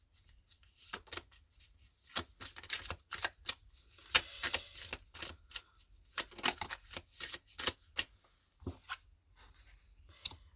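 Tarot cards are shuffled close up in a quiet room, a run of crisp riffling and flicking bursts with short pauses between them.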